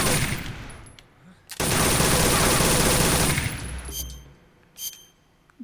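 A Soviet gun with a laser sight fires in Metal Gear Solid 3, giving a dense, loud burst of shots lasting a couple of seconds, then a few fainter sharp reports against a quiet game background.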